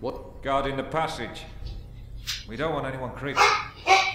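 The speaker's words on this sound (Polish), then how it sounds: "Oj, wybaczcie za mojego psa." A dog barks repeatedly in the Risen video game, short yappy barks arriving in clusters alongside someone speaking.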